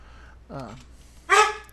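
A dog gives two short barks close by, a brief rising yip followed by a louder, sharper bark, with quiet pauses between them.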